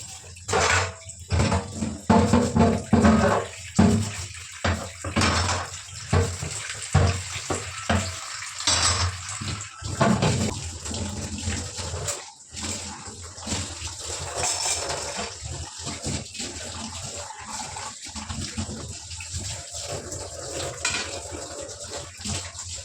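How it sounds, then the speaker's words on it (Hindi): Dishes washed under a running tap in a home kitchen during a daily cleaning routine: a steady rush of water with scattered clinks and splashes, close and fairly loud, with no talking. "धोऊँगी बर्तन।"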